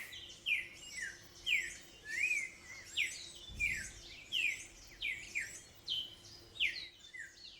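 A black-billed mountain toucan in the Colombian highlands repeats a rhythmic series of rising, yelping calls about once a second, loud and clear over a quiet background.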